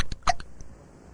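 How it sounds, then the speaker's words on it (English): Cartoon boy Bart Simpson hiccups in a treatment room, a few sharp, close vocal bursts in quick succession followed by a quiet, faintly noisy room. "This is the worst case of hiccups we've ever treated."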